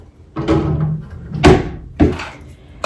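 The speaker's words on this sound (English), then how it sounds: "So I'm going to put that in the drawer." Drawer in a bathroom being opened and closed while packing up: three separate wooden-sounding thumps and slides, close and fairly loud, with a short pause between each.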